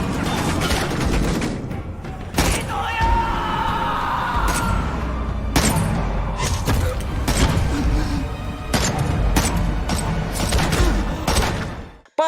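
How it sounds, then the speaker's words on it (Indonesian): Film gunfight in which a gangster opens fire on police: bursts of rapid gunfire with sharp loud shots, booms and crashing impacts over a dense action soundtrack, ending abruptly. "Moonback keluar dari persembunyiannya lalu menembaki semua polisi termasuk Lido dan Pak Cho."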